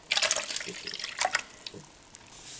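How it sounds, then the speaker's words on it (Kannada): Tamarind juice poured into a pan of gojju avalakki during cooking, a short close splash of liquid that fades into a soft trickle. "ಹುಣಸೆಹಣ್ಣು ರಸನ ಹಾಕಬೇಕು."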